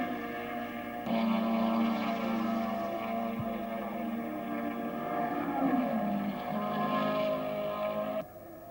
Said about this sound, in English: You can see the Lotus virtually leap ahead as it goes out under the 330-odd brake horsepower as it goes away